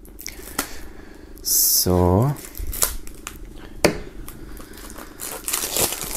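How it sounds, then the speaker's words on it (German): A music album is pulled out of its plastic wrap, giving a short burst of crinkling and rustling foil close by, while a person speaks around it. "Und dann holen wir auch noch das Album aus der Folie"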